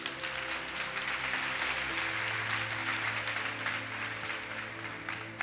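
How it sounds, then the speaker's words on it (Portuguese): Sustained congregational applause at a church service, a steady roar of many clapping hands that holds level for several seconds, with a low hum underneath. "Você pode dar uma salva de palmas para Jesus?"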